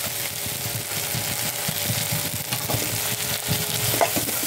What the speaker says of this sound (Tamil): பெப்பர் போட்டு நல்லா வதக்கிக்கணும்.